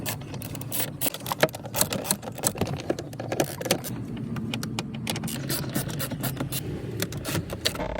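Bolts being removed from a Lexus GX460 dashboard panel with a 10mm socket on an extension, giving a close, busy run of ratcheting clicks, metallic rattles and scraping throughout.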